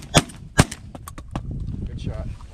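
Shotguns fired at incoming geese during a goose hunt, two sharp loud blasts about half a second apart followed by a few fainter quick pops, with outdoor noise and voices afterward.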